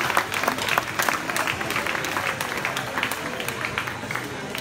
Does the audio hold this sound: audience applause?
yes